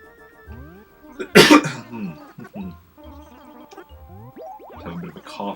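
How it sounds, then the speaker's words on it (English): A person gives a single sharp, loud cough over video game music and sound effects while playing Animal Crossing, with electronic blips and tones continuing before and after. "Have a bit of a cough right now."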